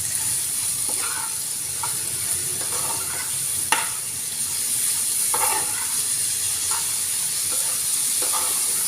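Beetroot pieces with salt, turmeric and chilli powder fry in a pan with a steady close sizzle, while a spoon stirs and scrapes through them in occasional clinks.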